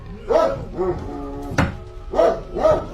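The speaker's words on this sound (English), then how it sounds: "What is that? I hear a dog bark." A dog barks several times nearby, sharp single barks spaced irregularly with a thump in between, fairly loud and clear.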